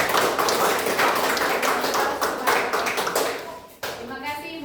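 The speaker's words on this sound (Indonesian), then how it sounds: "Baik, kita tepuk tangan kepada teman-teman kita." Children in a classroom clap their hands together in loud, dense, sustained applause. The clapping fades toward the end, when a brief ringing tone and the sound of a voice come in.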